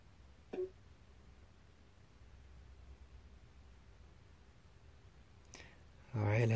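Two faint, sharp computer mouse clicks several seconds apart over a quiet background hiss, followed by a brief louder burst of noise at the very end.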